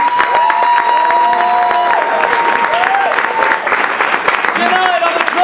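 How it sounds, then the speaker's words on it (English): A talk show audience applauds a guest's introduction, a dense steady clatter of clapping with some cheering, mixed with music tones running underneath throughout. "give me a big round of applause for our guest this evening"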